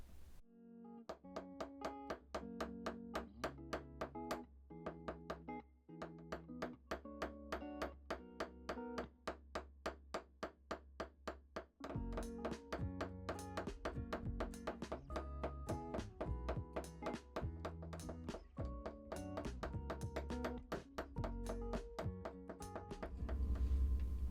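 A hammer taps repeatedly on a small stamped metal stocking-stuffer piece, dozens of close, ringing metallic strikes in quick, uneven bursts with brief pauses, each blow leaving a short bright ring.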